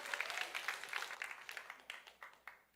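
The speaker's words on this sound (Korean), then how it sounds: "영광으로 박수 올려드립니다" A church congregation claps in praise during a Korean worship service, a burst of brisk applause that thins out into scattered individual claps over a few seconds, soft and somewhat distant.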